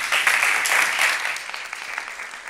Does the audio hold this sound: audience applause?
yes